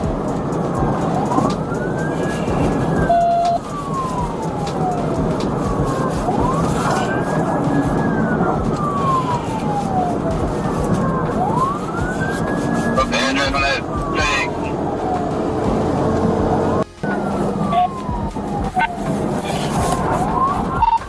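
A police car siren wails continuously in slow rising and falling sweeps during a high-speed chase at over 110 mph, captured on dashcam over loud road and engine roar, with radio talk in the mix.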